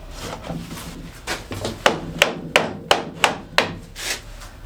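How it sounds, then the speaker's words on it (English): G clamps and F clamps are tightened on a glued, doweled wooden frame for an upcycled router table, producing a steady series of crisp ratcheting clicks and knocks at a regular rhythm, close by with no talking. "So I'm using my G clamp and F clamps. How musical."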